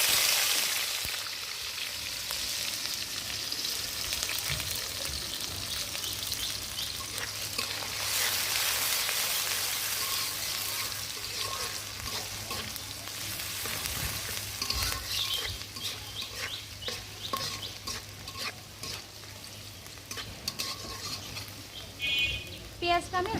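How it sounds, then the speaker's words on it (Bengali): Chopped onions frying lightly in a pan of fried spices for a yogurt chicken curry, a steady close sizzle with intermittent scraping stir strokes, the stirring growing more frequent toward the end. "পেঁয়াজটা আমি হালকা ভাজবো"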